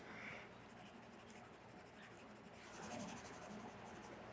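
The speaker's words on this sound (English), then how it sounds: "just go over it again with a pencil from the other side" A pencil traces back over a drawing on the reverse of a sheet of paper for a linocut transfer, giving a soft, continuous close scratching with small strokes and pauses.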